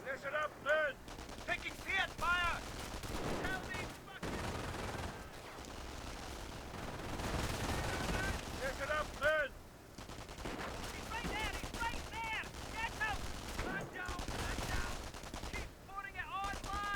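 Sustained World War II gunfire in Company of Heroes: machine-gun bursts and rifle shots rattle on almost without pause, with ricochet-like whines and distant booms mixed in, at moderate loudness throughout.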